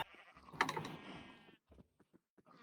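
A single sheep gives one loud, wavering bleat early on, then faint short sounds follow in a quiet farm-like game scene.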